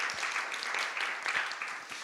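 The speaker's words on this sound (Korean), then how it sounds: "우리 늘 고생하는 우리 미디어팀 박수 한번." A congregation at a youth church service claps for the media team, a short burst of steady, mid-loud applause from many hands that carries on evenly without speech.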